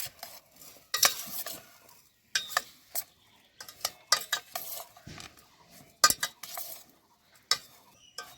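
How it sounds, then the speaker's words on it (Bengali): Cauliflower florets being tossed with pickle spices in a bowl, a run of irregular scraping and clinking bursts separated by short quiet gaps, close and fairly soft, with no one speaking. "এইভাবে মশলা দিয়ে ফুলগুলো মিশিয়ে নিব"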